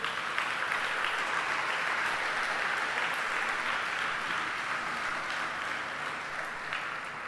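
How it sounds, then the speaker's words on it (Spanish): Steady, dense applause from a large church congregation, sustained and even throughout without a break. "Denle un fuerte aplauso al Señor."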